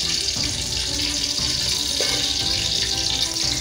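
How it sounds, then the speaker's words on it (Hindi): Ghee poured into a cooking pot already holding four tablespoons of refined oil on a lit gas stove, while making paneer pulao; a steady, fairly loud rushing pour with a continuous hiss, no talking. "अब मैं इसमें घी ट्रांसफर करूँगी।"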